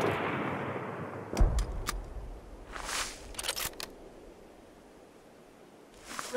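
Gunfire in the video game Mud and Blood: a few sharp, separate shots with crackling bursts that stand out against a steady hiss of background noise, fairly quiet overall.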